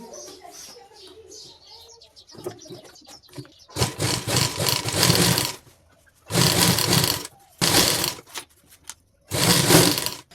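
A sewing machine stitches a zipper onto a jacket in several loud running bursts of rapid mechanical whirring, with pauses between them and a person talking quietly early on.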